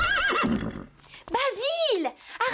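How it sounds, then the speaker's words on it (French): An animated horse, agitated and on edge after a long journey, lets out a loud rising-and-falling whinny right after a short stretch of speech. "Ce cheval, agité, énervé par un long voyage"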